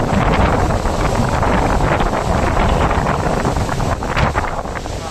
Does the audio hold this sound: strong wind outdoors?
yes